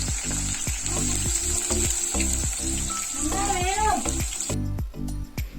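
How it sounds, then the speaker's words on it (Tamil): Sliced onions drop into hot ghee already fried with cloves and cardamom for a chicken biryani, giving a loud, steady sizzle with stirring scrapes throughout. "நல்லா பொரிஞ்சதுக்கப்புறமா கட் பண்ணி வச்சுருக்க ஆனியன் சேர்த்துக்கிட்டோம்."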